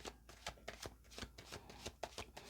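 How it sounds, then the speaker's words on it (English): A deck of tarot cards is shuffled by hand in quick, rhythmic riffles, each pass a crisp papery burst, close and fairly quiet with no talking. "Really think about them while I'm shuffling the cards."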